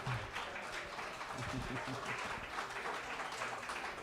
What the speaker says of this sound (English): please give our wives a round of applause, please